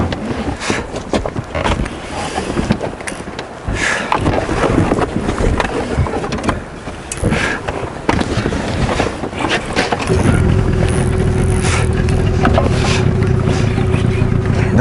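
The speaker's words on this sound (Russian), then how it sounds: "И Валера сейчас поедет на моторе." An outboard motor on a small fishing boat starts up after a stretch of wind and water noise, then settles into a loud, steady droning hum close by for the last few seconds.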